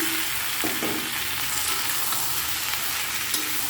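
Fried okra and potato pieces hit hot spiced masala in a pan for a vegetarian curry, raising a loud, steady sizzle with faint scraping of the spoon throughout.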